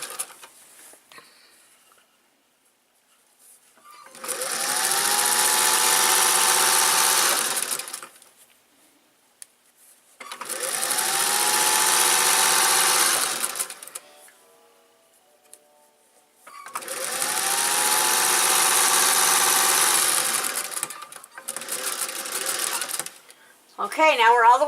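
A sewing machine stitches an apron in three long runs of fast, even whirring, each several seconds, plus a shorter final burst, with quiet pauses between.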